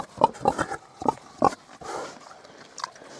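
Shaggy Hungarian Mangalica pigs in a farm enclosure give a string of sharp, close grunts and squeals in quick bursts, then a few softer, rougher snorts.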